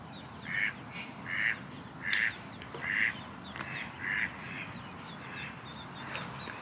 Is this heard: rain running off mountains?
no